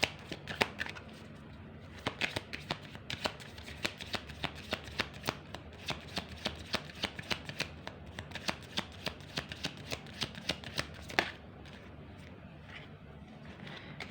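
Tarot cards shuffled steadily by hand, a dense run of quick riffling clicks and slaps over about eleven seconds, close and moderately loud, with a few lighter taps at the end and no talking.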